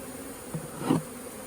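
Honey bees hum steadily around a hive in a summer colony inspection, a soft continuous drone with one bee buzzing briefly closer and louder near the end.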